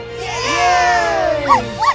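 A cartoon puppy gives a long, wavering whimper, then two short, high yips near the end, close and fairly loud.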